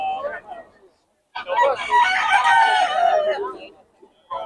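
A rooster crows loudly and nearby at a market in Bocaue, one long, strained call, preceded by a short clucking sound, with brief silence between.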